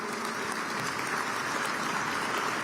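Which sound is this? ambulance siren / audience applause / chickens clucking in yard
audience applause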